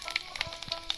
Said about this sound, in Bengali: এই দেখো পাঁচফোড়ন দিয়ে দিলাম।